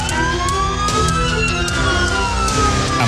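An ambulance siren wails steadily on a road south of Nablus in the West Bank, its rising and falling tones loud and continuous over traffic rumble for the whole stretch.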